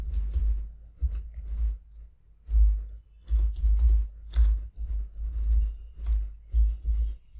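Keys on a computer keyboard are typed in irregular clusters of soft, thumping clicks with short pauses between bursts, close and fairly quiet. No one speaks.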